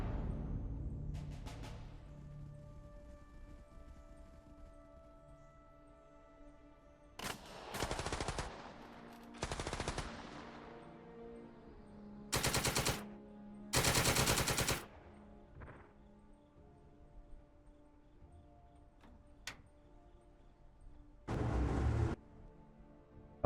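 Machine gun fire in the World War II strategy game Second Front comes in several loud, sustained bursts of a second or two each, spaced apart over quieter ambient game sounds and a few isolated shots.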